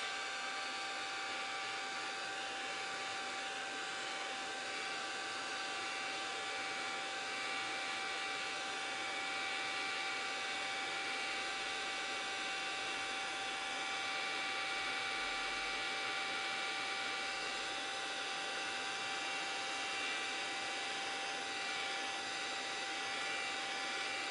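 A hair dryer blows steadily on fresh paint inside a steampunk pocket watch, a constant airy whooshing drone with a faint motor whine, unchanging throughout and with no voices.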